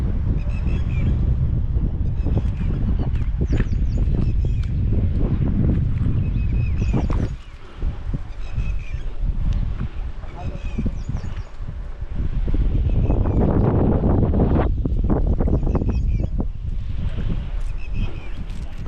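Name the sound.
strong wind by a river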